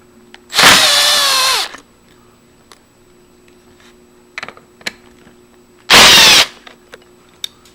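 A power drill backs out two screws from the plate of a passage lever: two loud, close whirring bursts of about a second each, several seconds apart, with faint clicks and handling knocks in between.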